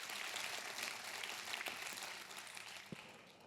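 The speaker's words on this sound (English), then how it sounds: "Another round of applause." Audience applause at a hackathon pitch competition, a dense steady wash of many hands clapping, fairly loud and close, tapering slightly toward the end.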